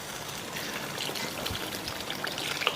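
Water poured into a pan while cooking Japanese curry, a steady trickling, splashing stream at moderate level running for a few seconds with small drips near the end.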